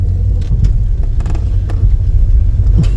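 A 1970 Chevy C-20 truck rumbles loudly over gravel as it brakes hard, with a heavy low-end drone and scattered crunching clicks from the stones under the tires.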